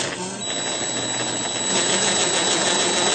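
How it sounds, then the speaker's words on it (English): A power drill with a paddle bit bores through a plate, its motor whirring steadily and close, with a faint high whine over a rough grinding texture that grows slightly louder. "I've got my paddle bit ready. And here's my plate. I'm just going to start real slow."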